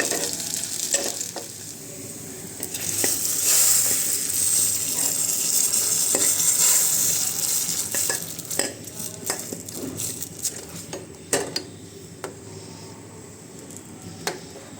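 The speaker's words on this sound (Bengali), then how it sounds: "আমি এখানে মরিচ দিচ্ছি শুকনা মরিচ" Dried red chillies frying in hot oil for a tempering, a loud steady sizzle with intermittent stirring and clinks of a utensil against the pan, fading toward the end.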